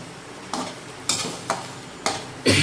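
A spoon stirs a grated potato mixture for aloo paratha in a bowl. Five or six distinct scraping strokes come at a steady, unhurried pace, close and clear, with no talking.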